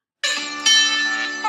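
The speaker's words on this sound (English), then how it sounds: "Now you can see the music's too loud" Background music bed for a hospital advertisement, a bright, bell-like sustained chord that starts abruptly and plays steadily and loud, with a slight swell partway through and no talking.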